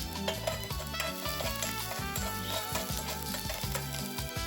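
Chopped scallions and shredded ginger stir-frying in a little cooking oil in a small pot, a steady soft sizzle broken by rhythmic knocks of a utensil against the pan.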